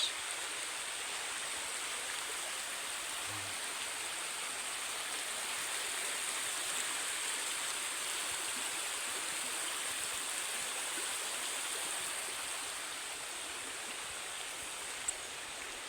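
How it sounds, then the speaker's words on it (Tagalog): A clean creek flows steadily with a continuous broadband rush that sounds moderately close and even throughout. No voices are heard over the water. "Hindi po ba napakaganda ng sapa na yan?"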